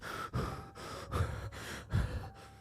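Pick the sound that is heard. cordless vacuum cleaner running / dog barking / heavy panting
heavy panting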